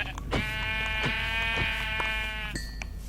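A Minecraft sheep gives one drawn-out bleat, close and clear over a constant low background hum, ending with a brief blip of game sound.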